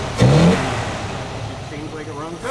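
A car engine idles after carburetor work, opening with a brief louder rev before settling into a steady low idle, with someone talking over it.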